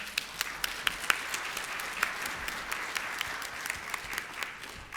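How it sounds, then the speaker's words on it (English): Lecture audience giving a quick round of applause between speakers, a moderate, fairly sparse patter of hands with distinct individual claps standing out, steady throughout. "So quick round of applause before we have our next speaker."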